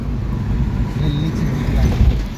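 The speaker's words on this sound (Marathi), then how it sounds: "ब्रो पप्पा खूप फास्ट चालवतात गाडी." A car speeds along a highway at night: a low, steady engine and road rumble from inside the cabin, with a brief louder surge of passing traffic noise and no clear talk.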